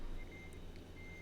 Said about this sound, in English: Trying to reverse this trailer.